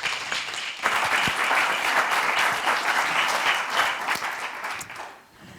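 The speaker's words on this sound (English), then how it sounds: "Give her a round of applause." A conference audience at Scala Swarm 2017 applauds a speaker, a dense, even round of clapping that holds for about five seconds and then fades out.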